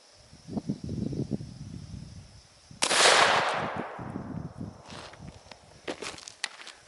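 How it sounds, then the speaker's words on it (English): A single loud 12 gauge shotgun blast firing number 8 shot at a ballistic armor plate, a sharp burst with a long ringing decay, amid footsteps and shuffling outdoors before and after. "we hit it with number 8 shot out of the 12 gauge"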